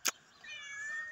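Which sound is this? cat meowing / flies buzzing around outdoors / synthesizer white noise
cat meowing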